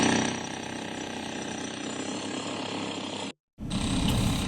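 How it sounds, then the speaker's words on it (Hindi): A heavy breaker hammer pounds at an illegal madrasa building on a pond, a loud continuous rapid hammering roar that cuts out briefly, then resumes. "अवैध मदरसे को हैमर हथौड़े से तोड़ा गया।"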